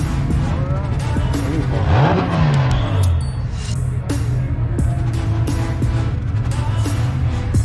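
A high-horsepower all-wheel-drive minivan at a street car takeover meet revs loud and close, its engine note sweeping up and falling back, over a noisy background of other cars and voices.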